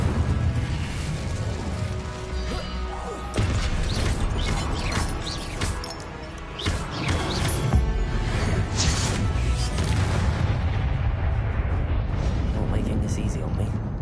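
An Incendio fire spell cast in Hogwarts Legacy, inside a map chamber: whooshing, crackling bursts of flame over a constant low rumble, with a voice heard in the mix.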